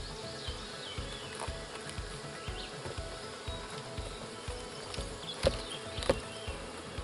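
Honeybees buzz around a nucleus hive, a continuous close droning hum with individual bees flitting past and a couple of brief louder taps near the end, with no voices.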